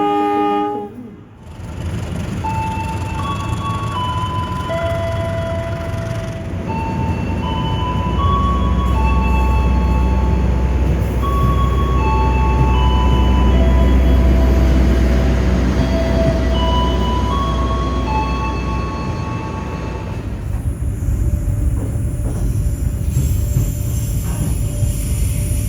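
The Jaka Tingkir Ekonomi New Generation train on the Jakarta–Yogyakarta route rumbles along loudly and steadily, with a deep low roar of wheels on rail and sustained horn-like tones that shift pitch, no voices present.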